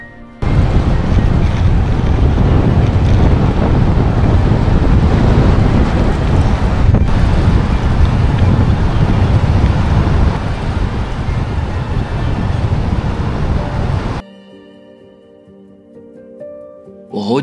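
Strong wind and heavy rain on the Lofoten coast of Norway make a loud, blustery roar that buffets the microphone for about fourteen seconds, then cuts to a much quieter stretch.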